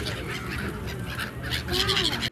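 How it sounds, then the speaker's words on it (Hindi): Migratory birds call over the Narmada river at Gauri Ghat, a busy chorus of honking, goose-like cries that swells louder near the end, heard with a general outdoor murmur behind. "नर्मदा तट गौरी घाट में प्रवासी पक्षियों का कलरव एक बार फिर से सुनाई देने लगा है।"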